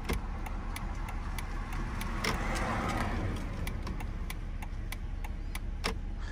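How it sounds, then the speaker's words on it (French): Turn signal of a 2006 BMW Z4 E85 2.5i roadster ticking inside the cabin, a crisp, evenly spaced series of about a dozen clicks over a low steady background rumble. "c'est rien que les bruits que font les commandes de cette voiture. Par exemple, le clignotant, regardez."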